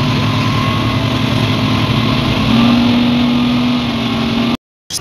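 Several speedboat engines idle and run at a pier on Koh Larn island near Pattaya, Thailand, a steady close motor drone with a rising tone midway, cut off briefly near the end.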